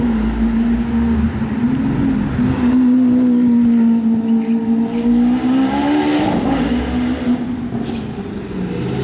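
A Gordon Murray GMK hypercar drives past on the streets of Monaco, its loud, steady engine note holding a smooth tone that climbs sharply before easing off, with no voices over it.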